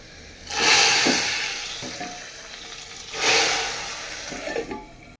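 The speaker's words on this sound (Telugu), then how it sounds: "పప్పులోనైతే ఈ పోపు అనేది వేసుకుందాం" Hot oil tempering with fried red chillies hits a pot of dal and sizzles loudly in two strong bursts that fade, with stirring crackles between and no talking.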